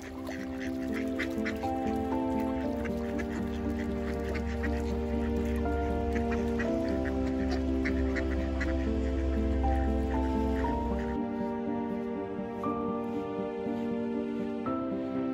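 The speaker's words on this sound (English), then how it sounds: "And of course, Derek making friends with a raft of ducks." A raft of ducks quacks on Loch Morlich in the Cairngorms, a steady overlapping chorus of calls continuing for most of the stretch, close and fairly loud, then thinning to a few scattered quacks near the end.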